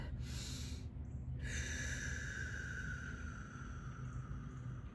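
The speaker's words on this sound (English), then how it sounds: "Inhale. Put that chest up. Let's breathe it in." A deep breath drawn in during a gentle outdoor sunset yoga flow, a long rushing inhale heard up close, steady and loud against a constant low background rumble.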